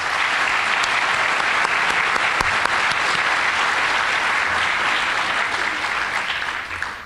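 An awards-ceremony audience gives innovators a steady round of applause, dense, even clapping filling the hall throughout before easing slightly at the close.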